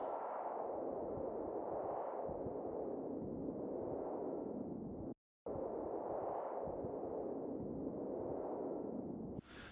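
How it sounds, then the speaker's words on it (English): A synthesized wind made with an automated bandpass filter in Ableton sweeps up and down in slow, regular swells of airy noise, broken once by a short silence. "I actually have a bandpass filter here that is automated to kind of move up and down, which kind of simulates this sort of wind sound."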